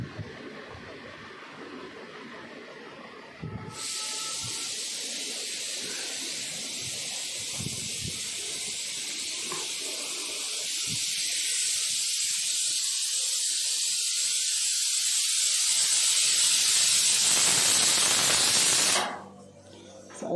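A kitchen pressure cooker vents a loud, continuous hiss of steam that starts suddenly and holds steady, growing slightly stronger before stopping near the end.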